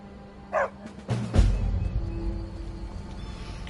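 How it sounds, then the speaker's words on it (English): A dog in the video game Skyrim gives a short bark and then a louder woof, close, followed by a low rumbling background with no talk. "The dog seems to belong to a Daedra and thrown him out."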